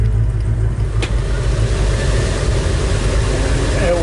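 A 1956 Chevrolet 210 idles steadily with its air conditioning switched on, a constant low engine drone and fan hum heard from inside the car, with a brief click near the start.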